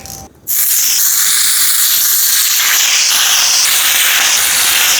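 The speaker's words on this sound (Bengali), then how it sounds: "মাছটা আগে ভাজতে হইবে ভাজার জন্য একটু হলুদ আর লবণ মাখিয়ে দিই" A three-kilogram silver carp, rubbed with turmeric and salt, drops into hot oil and sets off a sudden loud hiss. The sizzle holds strong and continuous right up close, with no one talking over it.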